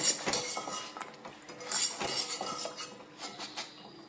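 Fried ring murukku scooped from hot oil with a metal ladle into a strainer, bright metallic clinks and scrapes repeating close by over a faint sizzle, no speech.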